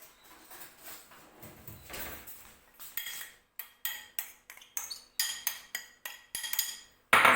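Apples being hollowed out with cutlery, a run of metallic scraping and clinking strokes against fruit and dish, irregular at first, then quicker and sharper, close up with no talking.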